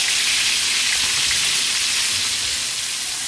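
Grouper fillet pan-searing in butter with herbs, a steady loud sizzle and crackle of frying fat running unbroken throughout, with no voices.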